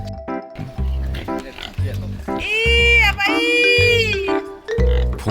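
Grunts and rising squeals from a pig family rushing in at feeding time on a village farm in far northern Thailand, where the feed is chopped banana tree mixed with rice bran and rice-washing water; close and loud, with a voice over them.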